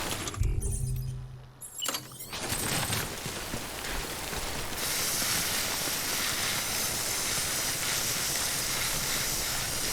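Timefall rain in the video game Death Stranding pours as a dense, steady hiss that builds after a few seconds of rustling movement and clatter, continuing evenly without speech.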